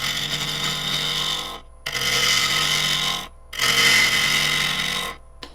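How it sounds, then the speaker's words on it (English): A small gouge cuts a wood burl spinning on a lathe, giving a steady, loud rasping scrape in three long passes separated by brief pauses, with no speech. "And again, I'm just using the small gouge."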